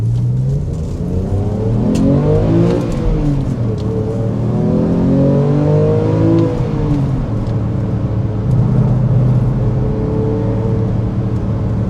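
Engine of a 13-year-old Porsche 911 GTS revving hard under acceleration while driving, a loud, continuous rising and falling drone with repeated gear-like swells across the whole stretch.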